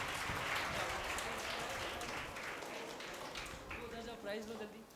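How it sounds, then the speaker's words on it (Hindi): An audience at a Jain sanskar pathshala in Pune claps loudly in a sustained burst of applause that tapers slightly, with voices talking over it. "बिल्कुल, ताली बजाओ जोर से।"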